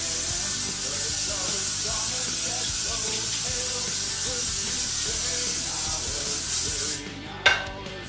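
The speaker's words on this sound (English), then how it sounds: "you really need to put a lot of hairspray in the roots, like this" Hairspray sprayed into the roots of hair: a steady, close hissing spray runs for several seconds and then cuts off, followed by a brief soft knock.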